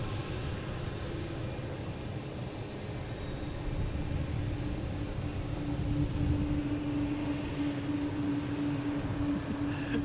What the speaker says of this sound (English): next taking off should be a JetBlue heading to San Juan